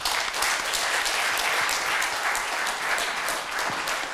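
A forum audience breaks into sustained applause, dense and even clapping from many people filling the room at a steady level with no voices on top.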